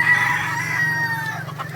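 Desi hens and roosters on an egg farm give a brief burst of clucking and calls over a steady low hum, fairly close.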